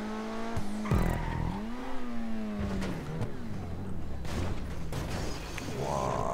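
Car sliding and skidding in GTA 5, with tyre squeal sweeping up and down over a steady engine drone and rapid shifts in pitch, close and fairly loud without pause.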